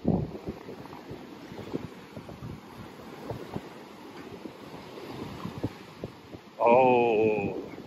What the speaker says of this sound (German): heute ist ganz schöner Wind noch hier unten